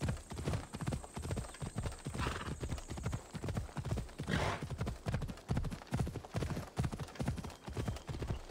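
A horse gallops at a steady rhythmic clip-clop in Assassin's Creed Odyssey, hoofbeats loud and regular throughout, with a brief whinny-like swell and faint game sounds in the background.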